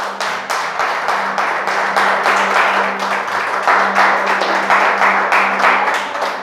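A church congregation applauding after prayer, dense rhythmic clapping that holds steady and fairly loud from start to finish.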